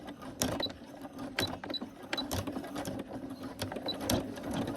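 A sewing machine stitching slowly, with soft, evenly spaced mechanical clicks and whirs close by at a quiet level, with no talking.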